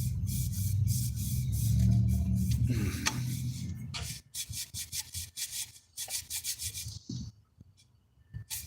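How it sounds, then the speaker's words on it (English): A small decanter rubbed clean with rubbing alcohol and a cloth, first in a continuous close scrubbing, then in short, repeated strokes with brief pauses. "I got a thing of rubbing alcohol here, and I'm trying to clean up my little decanter thing here."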